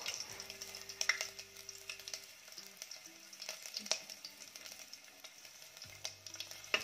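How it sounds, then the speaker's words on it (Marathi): Ginger frying in hot oil for a Malvani-style white pea curry, a faint steady crackling sizzle with occasional stirring scrapes, close and quiet. "तेल तापलं की यामध्ये आपण टाकणार आहोत आलं"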